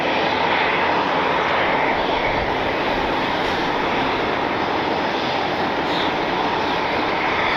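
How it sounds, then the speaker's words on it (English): A United airliner arriving from Chicago O'Hare touches down on runway 6 right at Cleveland's airport, a loud, steady jet engine roar that fills the whole stretch without a break. "2226 touching down on 6 right from Chicago, Illinois, O'Hare International Airport"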